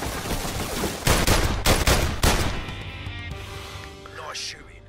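Loud close bursts of gunfire in the PlayStation VR Worlds game The London Heist, several sharp volleys in the first half before fading into quieter game sounds and a voice.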